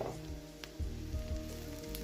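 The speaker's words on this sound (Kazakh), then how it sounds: "1 минутта араластырып қуырамыз саңырауқұлақты." Mushrooms stir-fried in a pan after softened onion, a brief continuous sizzle with a few scraping stirs up close.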